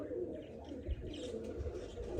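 Pigeons coo softly and repeatedly, low gurgling calls overlapping at close range in a quiet loft, with a few faint chirps and no clear speech.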